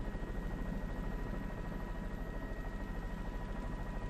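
A news helicopter hovers over the scene of an apartment explosion in Chicago, its steady engine and rotor drone continuous and moderately distant throughout, with no talk.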